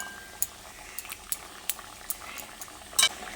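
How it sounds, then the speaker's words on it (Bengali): Potato and chana dal curry bubbling in a pan while being gently stirred, with soft bubbling and light clicks of a spoon against the pan, close and quiet. "তারপর হালকা হাতে একবার নেড়ে চেড়ে নিচ্ছি"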